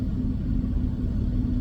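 A heavy haul truck carrying a large off-road dump truck pulls away, giving a steady, loud low rumble that holds evenly throughout without any talk.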